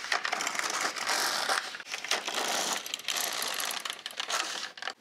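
An LK150 knitting machine carriage is pushed across for two rows, giving two scraping, rattling mechanical sweeps with a short pause between them, close and fairly loud, no speech.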